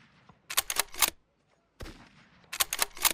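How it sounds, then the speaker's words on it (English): An Intervention sniper rifle in an army video game fires twice, each sharp crack followed by a quick cluster of mechanical clatter, with silence between. "You can use the intervention to shoot."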